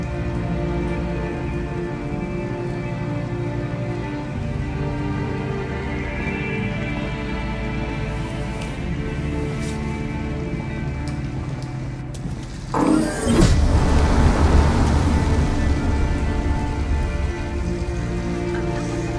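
Heavy rain falls outside in the game Detroit: Become Human, a steady, thick wash of drops that suddenly surges louder and closer partway through before settling back, with no speech.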